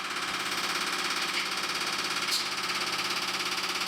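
A pump runs steadily during a fuel injector flow volume test, a continuous mechanical whir and buzz at moderate distance with no speech.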